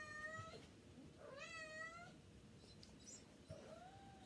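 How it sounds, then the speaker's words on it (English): A mother cat meows repeatedly to her kittens in short, rising calls, a few spaced apart, fairly close, over a low background rumble with no talking. "And that's my cat talking to her kittens."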